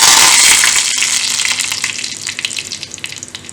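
Curry leaves dropped into hot oil for brinjal kuzhambu crackle and sizzle loudly up close, a bright burst at first that gradually settles into softer, sputtering pops.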